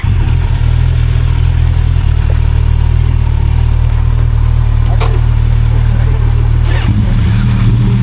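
A motorcycle engine idles loud and close with a heavy low rumble. Short blips of throttle rise from it, with faint voices in the background, at a stop in the Alpine Timmelsjoch pass area.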